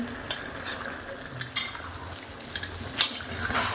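Mutton pieces sautéing in a pot for a village-style Bengali mutton and potato curry, with a steady oily sizzle and several sharp scrapes of a spoon against the pot at irregular intervals, close and fairly quiet, no voices.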